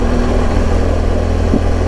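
Motorcycle engine braking down a steep 18% mountain road in the Val Taleggio valleys, a steady, loud, low droning engine note held throughout with no voices.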